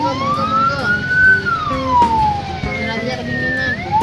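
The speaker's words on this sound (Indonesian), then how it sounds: "Oh, ambulan." A loud ambulance siren sweeps slowly up and down through a wet, stormy street scene in Pringsewu, Lampung, with traffic rumble beneath and a few brief knocks along the way.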